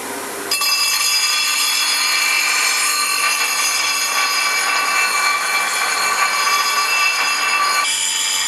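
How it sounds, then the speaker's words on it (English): A steady, loud angle grinder whine on the edge of rusty metal, harsh and continuous for several seconds after a brief quieter start. "I'll just grind the edge off this now"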